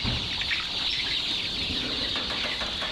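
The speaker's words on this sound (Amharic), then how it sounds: "ሁሉም ዶሮች እዚህ ጋር ይመጡና ይሰባሰባሉ ማለት ነው።" A flock of chickens gathering together at night, a dense crowd of close clucking and rustling wings over a continuous noisy background, with no talk.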